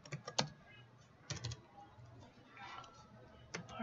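Someone types on a computer keyboard, giving faint, quiet key clicks in short irregular bursts separated by brief pauses, close to the listener in a quiet room.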